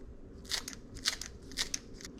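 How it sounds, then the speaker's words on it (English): Kitchen scissors snip fresh herbs straight into a pot of Vietnamese soup, four or five crisp close-up cuts at a steady, fairly quick rhythm over a low background murmur. "I'm gonna take our herbs and a pair of kitchen scissors and just cut the herbs into the soup"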